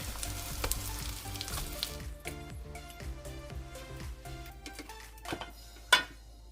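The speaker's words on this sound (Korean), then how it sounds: "밑면이 노릇해지면 뒤집어서 중약불에서 구워주세요." Perilla leaf pancakes frying over medium-low heat in a pan, giving a soft continuous sizzle with small crackles and scraping touches and one sharper clack near the end.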